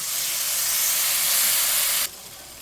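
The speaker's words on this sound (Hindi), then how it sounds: "2 प्याली पानी शामिल कर देंगे।" Water poured into hot semolina halwa in a pan sets off a loud, close burst of hissing sizzle and steam that holds for about two seconds, then cuts down to a softer simmer.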